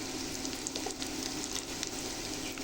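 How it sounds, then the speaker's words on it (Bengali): Onions sizzling in a pan of oil, nearly browned, as a fish curry base before spices go in; a quiet, steady frying hiss close by, with faint stirring and no talking. "আমার অনেকটাই পেঁয়াজ ভাজা হয়ে আসছে।"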